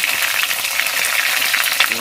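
Salted fish heads frying in a hot wok, a loud, dense crackling sizzle with spitting pops running steadily up close.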